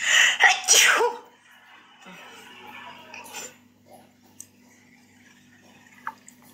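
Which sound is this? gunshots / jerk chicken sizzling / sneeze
sneeze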